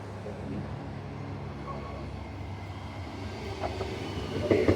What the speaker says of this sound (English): Mandurah train coming in as usual.